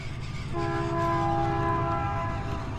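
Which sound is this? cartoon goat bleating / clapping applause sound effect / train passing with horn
train passing with horn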